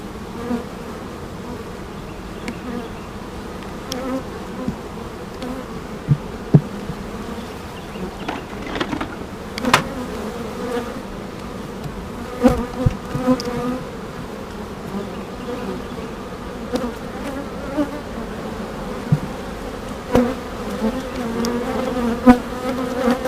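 Honey bees buzz around a beehive, making a dense, continuous drone with occasional close passes and small knocks. It is steady and fairly loud, with no talk.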